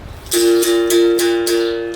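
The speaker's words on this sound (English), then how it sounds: "and the open sound called dom" Berimbau open tone, the dom, struck four times in a steady rhythm, each ringing note close and clear with a bright metallic attack and a sustained low hum, alone without talk.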